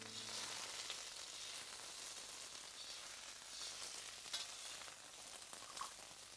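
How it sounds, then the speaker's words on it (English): Mackerel pieces coated in egg and flour batter deep-fry in olive oil with a soft, steady crackling sizzle, faint and continuous, with no voices. "deep fried in olive oil"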